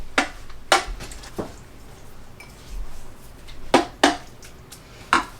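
A utensil stirs cooked beans and greens with salt in a pot, giving several sharp clinks and scrapes against the metal in irregular bursts over a quiet background.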